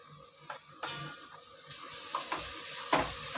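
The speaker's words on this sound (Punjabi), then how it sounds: "ਮਸਾਲਾ ਹਲੇ ਭੁੱਜਣ ਦਿਆ ਏ ਜਦੋਂ ਤੱਕ ਬਰਾਊਨ ਲਾਲ ਨਹੀਂ ਨਾ ਹੁੰਦਾ ਪਿਆਜ਼" Onion masala fries in a pan for a paneer and capsicum curry, with a low sizzle broken by several knocks and scrapes from stirring.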